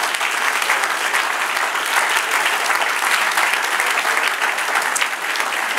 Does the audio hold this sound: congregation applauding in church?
yes